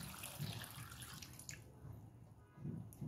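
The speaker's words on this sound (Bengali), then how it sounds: "আরও 2 কাপ, মোট 6 কাপ পানি দিয়েছি, আর 2 কাপ দিয়ে দিচ্ছি।" Water is poured into a cooking pot for carrot halwa, a faint splashing stream with soft drips that rises and fades over a few seconds.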